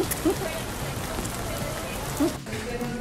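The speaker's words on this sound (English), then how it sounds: "We're stuck in the rain, baby." Rain falls steadily as an even hiss over a surface throughout, while people talk close by.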